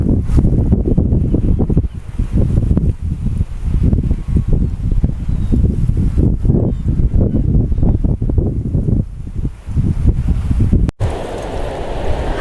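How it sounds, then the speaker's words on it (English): Strong wind buffets the microphone on the shore at Hastings while the sea washes in, a loud, rough, continuous roar with gusts rising and falling and no clear voice heard. "I don't know how much you can hear of me because of the wind and the sound of the sea"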